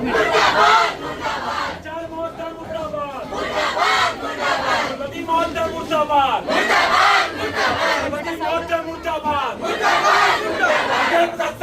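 A large crowd of college students chants protest slogans against their principal in loud, rhythmic bursts of shouting, voices rising and falling together in repeated waves over about twelve seconds.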